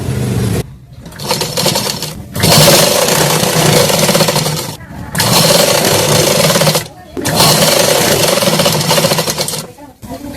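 Sewing machine stitching a katori blouse, a loud steady mechanical whir running in long bursts separated by short pauses, stopping and restarting about four times.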